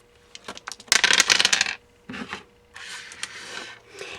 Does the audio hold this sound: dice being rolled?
yes